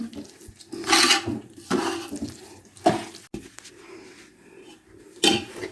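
Flour, wheat and flaxseed being stirred into hot jaggery syrup in a pan, off the flame: irregular scraping and clattering strokes of a spoon against the pan, several bursts spaced a second or so apart, close and moderately loud with no talk.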